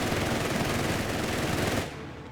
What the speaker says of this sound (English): Taking a lot of damage here from the machine guns.